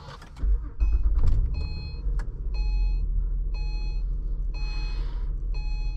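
A 2014 Acura TL 3.7 SH-AWD starting by push button, a quick cranking burst settling into a steady low idle, with repeated short electronic dash chimes ringing over it.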